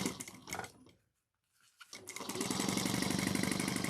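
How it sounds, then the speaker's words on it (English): Sewing machine basting fabric at a 1/8 inch seam while making a pouch; a few short stitching bursts, then a pause, then a steady, close, rhythmic run of stitching that continues to the end. "I'm just going to baste it at 1/8 of an inch real quick."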